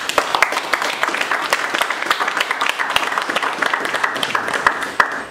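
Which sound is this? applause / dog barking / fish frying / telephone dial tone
applause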